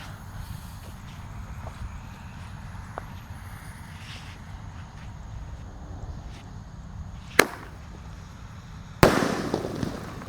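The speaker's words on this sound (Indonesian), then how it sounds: "penutupannya Romaine candle 8 shot ukuran 1 inci. Langsung kita nyalakan." An 8-shot 1-inch Roman candle firework is lit outdoors; after a quiet hiss, one sharp close pop is followed a second later by a loud burst of crackle and rushing noise.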